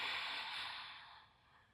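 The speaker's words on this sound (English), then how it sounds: "breathing in and then exhaling" A person breathes out slowly during a breathing exercise. The exhale is one soft, airy breath that starts near and fades gradually, with no talking.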